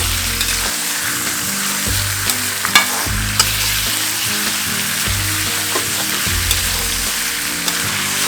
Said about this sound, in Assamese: এতিয়া খুব ধুনীয়াকৈ ভাজিব লাগিব।